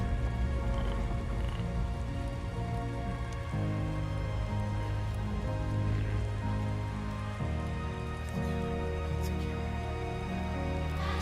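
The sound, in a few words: rain falling in video game Death Stranding 2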